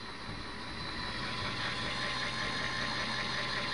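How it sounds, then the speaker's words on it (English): A LEGO Mindstorms vehicle's electric motor turns a worm gear, with each side driven independently, giving a steady, even mechanical whirring drone that holds for the whole stretch with no voices. "From a motor and a worm gear."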